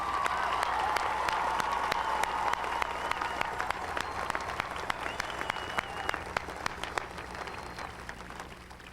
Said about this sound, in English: Please join me in applauding these outstanding young Texas actors.